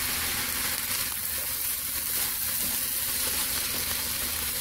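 Chinese-style fried rice with soy sauce sizzling in a hot pan, a dense, steady, loud hiss of frying without breaks, with faint scraping underneath.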